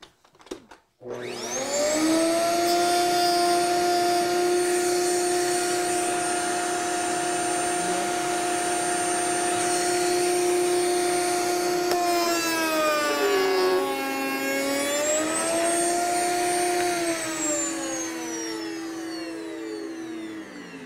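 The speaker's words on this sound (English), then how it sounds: "when I make this cut, that top cutter should be getting rid of part of that tenon" Router cutter shaping a tenon on a solid-wood cabinet door, a loud steady high-pitched whine that dips and rises as the cut proceeds, with no speech.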